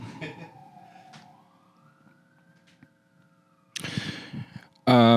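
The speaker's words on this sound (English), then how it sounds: "Hold for siren." A distant emergency siren wails, rising and falling in pitch, with quiet room noise; brief louder noises and a burst of nearby sound come at the end.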